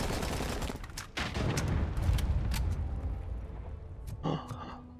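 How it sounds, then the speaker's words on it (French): A gas canister explodes in the game RoboCop: Rogue City, a loud explosion with a heavy rumbling boom that fades slowly, preceded by sharp cracks, followed by a short electronic beep. "On l'a tué avec l'explosion de la bonbonne de gaz à côté de lui."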